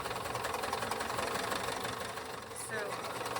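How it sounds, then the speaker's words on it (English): A sewing machine stitching a quarter-inch seam on quilt pieces, a steady mechanical rattle running through the whole clip at a close, even level. "I'm just going to sew that 1/4 inch seam along here"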